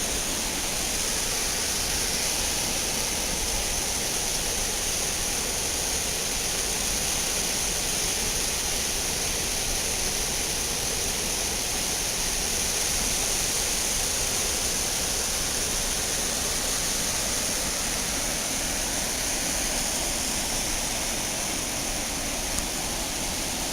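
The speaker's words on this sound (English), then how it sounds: "this is one of the new falls this year. It's actually just a little bit above Navajo Falls" A newly formed waterfall just above Navajo Falls in Havasu Canyon, Arizona, pours in a steady, loud, broadband roar of crashing water that stays constant throughout, with no voices.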